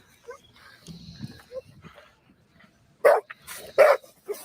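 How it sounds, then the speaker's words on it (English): A dog in the back of a car gives two loud, close barks near the end, with fainter yips and whimpers earlier amid scattered voices and street commotion. "the guy had a dog in the back of his car"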